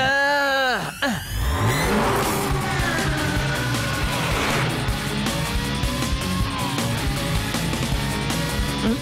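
A cartoon race car revs loudly and accelerates after a gear change, its engine whine sweeping upward and then holding a continuous, busy roar mixed with animated sound effects.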